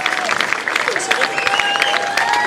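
Audience at the Banjo Jamboree festival in Čáslav clapping and cheering continuously, a dense crowd applause with whistles and shouts, loud and sustained, with voices mixed in.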